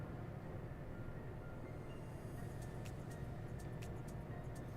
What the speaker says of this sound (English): it's nice to be driving the Volvo FH6. Nice truck to drive.